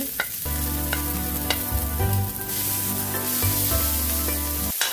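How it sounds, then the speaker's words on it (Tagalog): Spring onion bulbs being stirred in a hot pan with garlic, a steady sizzle of frying under repeated scraping strokes of a spoon, close and continuous, with no talking. "Maglagay din ng ulo ng spring onion, ulo ng dahon ng sibuyas. Halo-halo lang ng mabuti."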